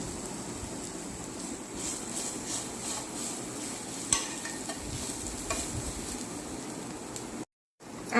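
Chicken masala being stirred and fried in a pan, a steady close sizzle with scraping spatula strokes running throughout, one sharper clink midway and a brief dropout near the end.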